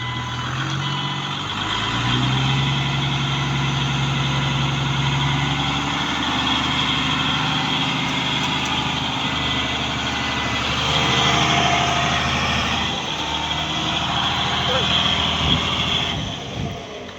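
Truck engine runs steadily at close range while a windcone is lifted, a continuous loud rumble with mechanical whine and faint intermittent beeping, and voices talking over it.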